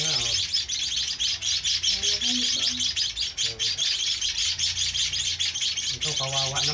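Rescued young house sparrows chirp close by in a steady stream of bright, rapid tweets that continue throughout, with a voice speaking quietly underneath.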